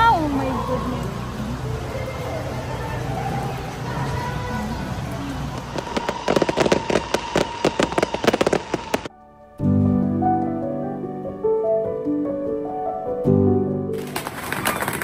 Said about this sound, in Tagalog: Para bang umuulan talaga ng paputok yung lugar na yan.